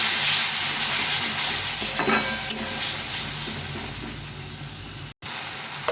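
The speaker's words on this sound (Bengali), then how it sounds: "দিয়ে এটাকে ভালো করে ভেজে নেবো" Spice paste with salt and turmeric fries in a pan for a spicy shol fish curry, a dense, loud sizzle with stirring scrapes that eases slightly before a brief cut near the end.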